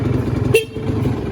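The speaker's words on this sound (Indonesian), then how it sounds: "Klakson nyala." Short single toot from the horn of a 2015 green Kawasaki Ninja R two-stroke motorcycle, loud and close, sounding once over steady background noise.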